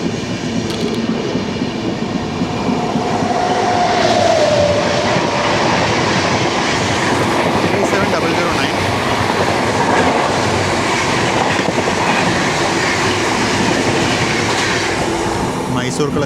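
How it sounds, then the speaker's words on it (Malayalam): A Shatabdi Express thunders past on the opposite line, heard from inside a moving AC Express train: a loud, continuous roar of wheels and rushing air with rhythmic clickety-clack, a brief high wheel squeal early on, close and dense. "ഓപ്പോസിറ്റ് ലൈനിൽ ശതാബ്ദിയാണെന്ന് തോന്നുന്നു കണ്ടിട്ട്"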